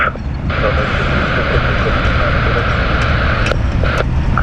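An airliner's engines roar steadily as it takes off from runway 32 at Zurich airport, loud and continuous, with radio voices talking over it.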